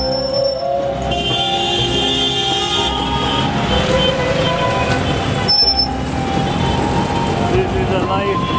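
Busy road traffic on a city street in Surat, India, with a steady roar of engines and passing vehicles close by, a brief high horn-like tone, and people talking over the din throughout.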